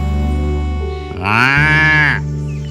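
A buffalo lets out one loud, close, drawn-out moo that rises and then fades, over a steady low background hum, with no talking.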